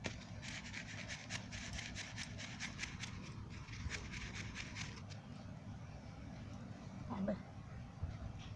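Cooked wheat flour is sifted through a sieve, giving a soft, rhythmic scratchy rubbing close by that fades partway, then a faint clink near the end.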